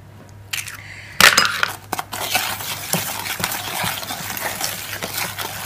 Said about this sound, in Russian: Хорошенько все это перемешиваем.